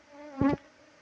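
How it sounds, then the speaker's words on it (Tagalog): Wild honeybees from a swarm buzz close by during a honey hunt, one brief, sharp, droning pass rising out of a faint background hum and fading again within about a second. "Ang daming bubuyog."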